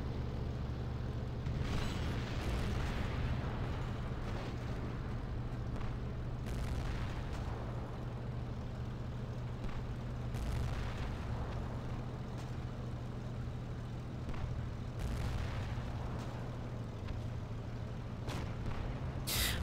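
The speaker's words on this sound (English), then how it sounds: "That was just a 50-pound bomb." Bomb blasts from 50-pound bombs in the World War II Online game, a steady low rumbling roar with several heavy booming bursts spread through it, loud and close with no talk.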